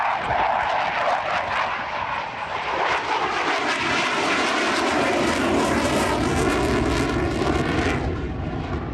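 A Royal Australian Air Force F/A-18A Hornet jet on its last display flight at the Wings over Illawarra air show, its loud engine roar swelling and sweeping past with no voices.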